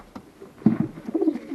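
Doves coo in a backyard aviary housing doves and racing pigeons, a few soft, throaty, rolling coos close by, rising and falling in short phrases, with no talking.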